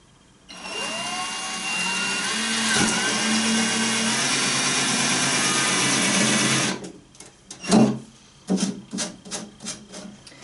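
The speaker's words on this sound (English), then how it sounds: "Allow the drill to do the work." A power drill bores through a multiwall polycarbonate sheet with a steady whining grind for about six seconds, then stops, leaving a few clicks and knocks.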